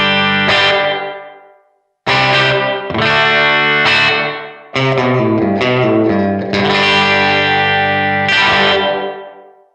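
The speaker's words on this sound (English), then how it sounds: "I really like the sound of the reverb on this" Distorted electric guitar chords through a Blackstar AMPED 1 amp simulator with reverb, several strummed chords ringing out with washy tails that decay into silence between hits.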